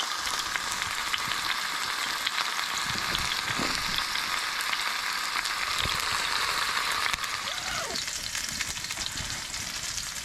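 Steak sizzles and spits in a pan on a wood-burning hot tent stove during stormy winter camping, a steady broad frying hiss with occasional soft crackles and pops throughout.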